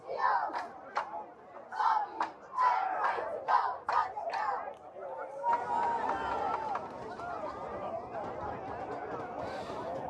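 Notre Dame sideline cheerleaders and crowd chanting at a high school football game, rhythmic shouted cheers at first, then a broader roar of crowd noise and babble.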